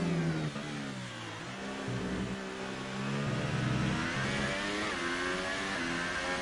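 Formula 1 car engine heard onboard in a racing video game at the Circuit of the Americas, a loud continuous high-pitched whine that rises and falls with gear changes and throttle, with no talk over it.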